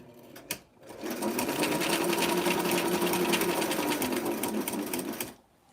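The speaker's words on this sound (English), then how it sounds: "We're going to back stitch up to the edge." Sewing machine back stitching the front facing of a 1990s vintage gown with a sweetheart neckline, a steady close whir running for about four seconds between brief pauses.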